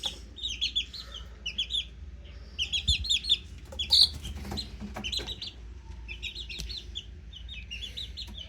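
Chickens in a backyard coop cluck and chirp in short repeated bursts, fairly close, with quieter pauses between calls and soft background noise.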